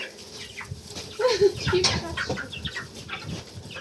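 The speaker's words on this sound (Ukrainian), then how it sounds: "Так, курчата. І самі півні." Young chickens, mostly roosters, cluck and murmur nearby in a busy, continuous chatter, with a few louder squawks rising above the flock.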